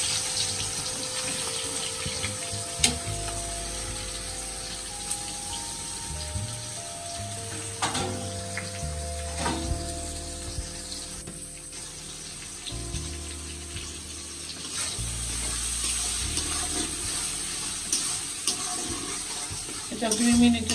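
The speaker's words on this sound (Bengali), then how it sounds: "এটা 2 মিনিটের মতন আমি ভেজে নিই।" Hilsa roe and eggplant fry in oil in a pan, giving a continuous sizzling hiss with occasional clinks and stirring bumps, plus some faint background sounds.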